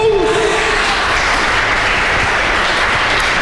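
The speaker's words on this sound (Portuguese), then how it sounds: "Se você crê nisso, aplaude o nome de Jesus." A church congregation bursts into loud, sustained applause, a dense wash of many hands clapping together that fills the space and continues evenly throughout.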